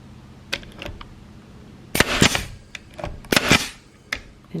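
Nail gun firing nails into a stair baluster during a DIY repair: a series of sharp, loud cracking shots, some single and some in quick pairs, spaced irregularly across a quiet room.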